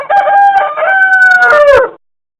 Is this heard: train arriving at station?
no